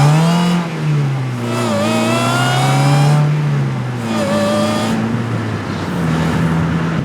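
DF Goblin car driving hard, engine revving up and down through several rising and falling pulls, loud and close throughout.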